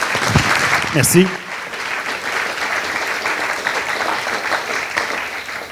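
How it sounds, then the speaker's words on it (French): Audience applause after a speaker is introduced at a psychospiritual lecture, a broad steady wash of clapping that carries through the whole stretch, with a brief spoken thanks near the start. "vous pouvez l'applaudir bien fort"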